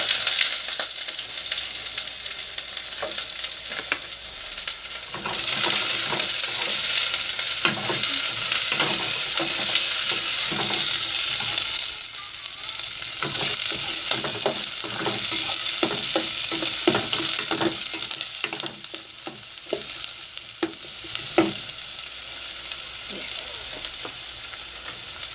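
Onion sizzling steadily in a hot pan with chicken liver, stirred throughout with repeated scraping and clatter over a continuous, fairly loud frying hiss.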